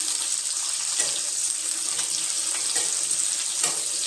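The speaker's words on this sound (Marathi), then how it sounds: "मी शिमला मिरची ती घालून घेणार आहे ती पण आपण एक ते दोन मिनटं छान असं तेलामध्ये वाटून घेऊया" Chopped bell pepper sautés in hot oil in a pan, a steady close sizzling hiss that holds at an even level with a few faint crackles throughout.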